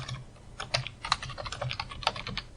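Rapid, uneven clicking of keys as code is typed on a computer keyboard, close and fairly soft, with no talking.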